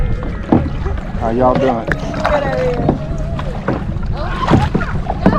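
Kayak paddling through mangroves in John Pennekamp Coral Reef park in the Florida Keys, with paddle splashes and water movement close by while someone speaks a greeting over light wind.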